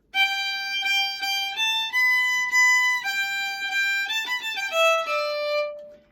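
A single bowed fiddle plays a simple, clean melody alone, note by note with smooth slides, close and steady for several seconds.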